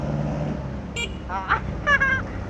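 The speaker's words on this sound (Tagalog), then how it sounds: "Yung busina niya medyo may problema." Horn of a Rusi RFI 175 motorcycle with a faulty horn, giving a few short, thin, weak toots against road and engine noise.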